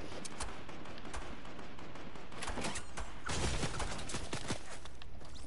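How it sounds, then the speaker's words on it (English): Gunfire from a PS4 shooter game rattles out in dense, rapid bursts of cracking shots, some near and loud, others further off, continuing throughout. "Shots."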